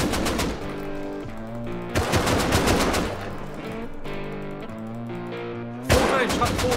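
Gunfire in the survival game Rust, with bursts of rapid automatic shots in several volleys, loud and close, over a steady background drone and game sound effects.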